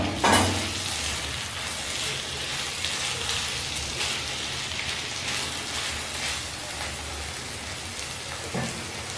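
Cashews and raisins fry on a low flame in a pan for navratan korma, a steady soft hissing sizzle throughout, with a couple of light utensil clacks near the start and end and no talk.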